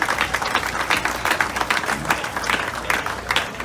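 An audience at a Labour Day gathering applauds the Bermuda Union of Teachers, a sustained round of many hands clapping with a crisp, busy texture that stays fairly even throughout.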